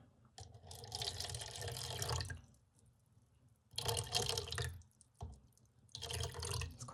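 Water running from a tap to measure out for a Resincrete concrete mix, three loud splashing bursts with quiet pauses between them, close and with no talk.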